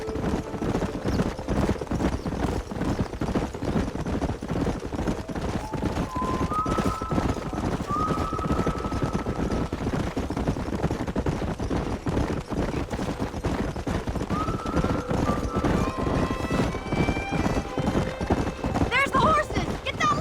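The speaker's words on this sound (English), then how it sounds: "There's the horses!" Horses in the Red Dead Redemption video game, with hooves clip-clopping steadily beneath a music score and several sharp whinnies that rise and fall midway and near the end.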